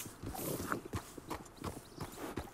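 A horse in the video game Red Dead Redemption 2 walking at a steady pace, its hooves clip-clopping in a regular rhythm of distinct, fairly close knocks with no talk over them.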